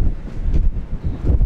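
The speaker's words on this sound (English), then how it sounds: "Oh, the wind. It's a bit windy inside." Wind gusts through an abandoned house in Sweden, buffeting the microphone with loud, low rumbling bursts that rise and fall over a brief moment.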